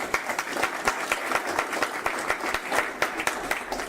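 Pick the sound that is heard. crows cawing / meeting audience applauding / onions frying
meeting audience applauding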